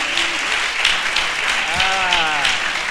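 A congregation at a French-language religious broadcast keeps up a steady wash of applause and cheering throughout, with a voice rising briefly over the crowd.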